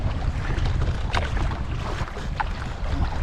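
Gusting wind buffets a solo canoe out on a lake, a rough continuous rumble of wind noise across the microphone with faint water splashes.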